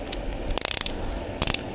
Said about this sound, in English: I'm going to go to my torque wrench.